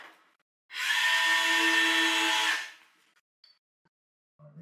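A power drill drives screws into a wooden frame for a boat's station frame, one steady close whirring burst of about two seconds starting and stopping cleanly, with no talk over it.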